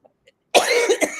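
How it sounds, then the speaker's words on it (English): A person coughs in a harsh, close burst of about three rapid hacks, preceded by a couple of faint tiny clicks in near silence. "so I'm not sure why I'm coughing like this"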